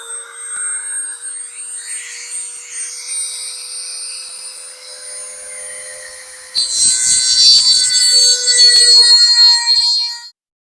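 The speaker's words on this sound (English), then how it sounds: "I put a little sanding drum thing on there, and it seemed to do pretty good." A high-pitched rotary tool spins a small sanding drum to enlarge a hole in a phone and watch charging caddy. The motor whines steadily, then grinds louder and harsher as the drum bites into the material before stopping.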